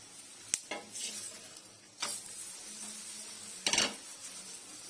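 Thepla flatbread frying in oil on a hot griddle, a steady low sizzle broken by a few sharp scraping clatters of a spatula turning it, close by.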